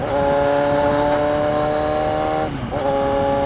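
A remapped Kawasaki Z1000 big bike is ridden on the road while its engine revs hard and holds a high, rising whine. Near the end it briefly drops off as the rider shifts gear, then it climbs again, loud and close.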